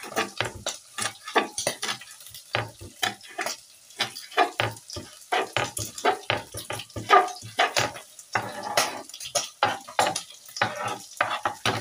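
Meat sizzles and fries in a pan while being stirred, with frequent scraping and clinking of a utensil against the pan in an uneven, busy rhythm, close and steady, with no talking.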